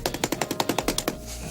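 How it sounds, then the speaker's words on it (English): Paint brush wet with waterborne oil stain being beaten against a surface to dry it: about ten rapid, even thwacks in a fast rhythm, close and sharp, stopping abruptly. "Then you're going to dry it off. I like to do Bob Ross and beat the devil out of it"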